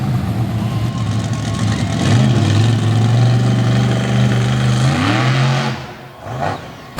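The Iron Warrior monster truck, driven by Matt Cody at a Fredericksburg, VA show, roars loudly and close, its engine revving hard and climbing in pitch on launch before cutting off, then briefly rumbling again.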